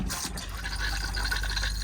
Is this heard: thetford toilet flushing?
yes